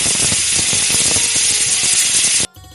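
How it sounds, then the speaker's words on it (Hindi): A pressure cooker whistle blows from a home kitchen, a loud continuous hissing steam jet that fills the whole clip, then cuts off abruptly near the end, leaving a brief quieter tail. "तभी कुकर की सीटी की आवाज आती है किचन से।"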